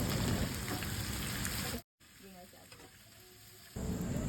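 Cabbage hitting a hot pan with onion, garlic and carrots for stir-fried bihon noodles, a loud dense sizzle that cuts out abruptly, then returns fainter with a few stirring clinks before surging again.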